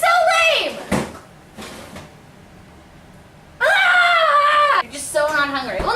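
Pet guinea pigs give loud, high rising squeals in two bursts around the opening of a fridge, with a thud and quieter rustling between the bursts.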